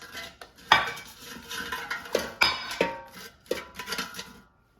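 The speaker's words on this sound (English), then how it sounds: "And I will put seasoned frozen asparagus in the air fryer." Seasoned frozen asparagus dropped and shuffled into an air fryer basket, a series of sharp clinks and clattering knocks scattered unevenly over a few seconds, close and moderately loud, with no talking.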